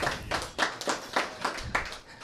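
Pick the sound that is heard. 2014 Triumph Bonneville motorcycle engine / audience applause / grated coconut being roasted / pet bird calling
audience applause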